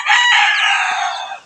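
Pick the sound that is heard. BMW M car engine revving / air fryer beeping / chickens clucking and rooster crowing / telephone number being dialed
chickens clucking and rooster crowing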